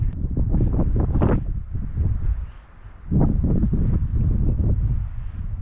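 Strong wind gusts at a mountain summit in the Guadalupe Mountains, Texas, buffet the microphone in rough, roaring gusts, easing briefly midway before surging again.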